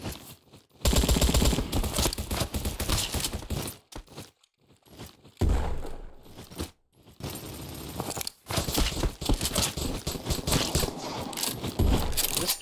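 Rapid gunfire from a newly acquired gun in the online shooter game Bad Business comes in loud automatic bursts, broken by several short pauses and brief silent gaps.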